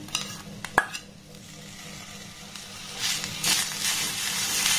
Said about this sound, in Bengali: গ্যাসের ফ্লেমটাকে একদম লো রেখে এবার এটাকে একটু ভালোভাবে নাড়াচাড়া করে নেব